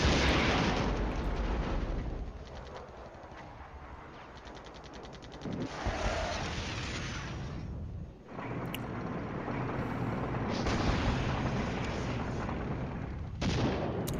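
Return fire in the wargame Flashpoint Campaigns: Southern Storm, with a continuous rumble of distant gunfire and artillery, and a few sharper bursts and booms rising over the din.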